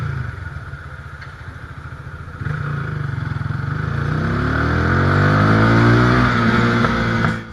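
A motorcycle ridden on Jamaican roads hums steadily, then its engine revs up and climbs in pitch as it accelerates close by, loud and continuous with no talking.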